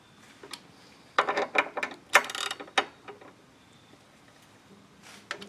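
Ratchet clicks tighten the drive shaft loop bolts on a third-generation Camaro during a 4L80E transmission install, coming in quick uneven bursts of close metallic ticking with pauses between strokes.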